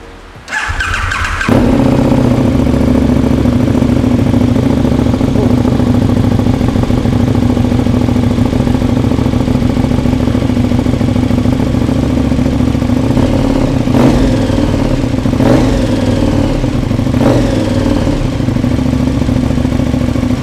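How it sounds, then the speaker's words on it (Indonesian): KTM SuperDuke 1290R Gen 3 with an Austin Racing exhaust starts with a short cranking burst, then settles into a loud, deep, steady idle close by, with a few brief throttle blips near the end; no talking. "pengen dengerin suara Austin Racing di SuperDuke Gen 3 ini. Langsung kita nyalain ya."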